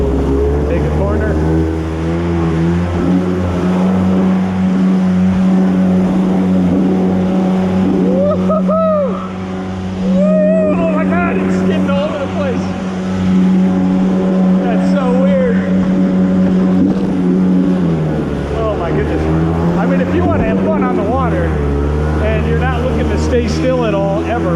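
A Yamaha WaveJammer stand-up jet ski running on water, its engine droning loud and steady with pitch rising and dipping as it corners and power slides, someone talking over it at times.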